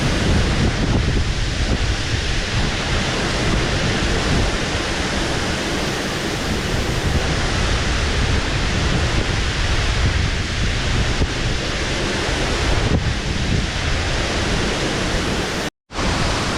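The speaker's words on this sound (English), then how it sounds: "And that, ladies and gents, is waterfall number 4." A waterfall on the Four Falls Trail in the Brecon Beacons roars in a loud, steady broadband rush close by, with a brief dropout near the end and no talking.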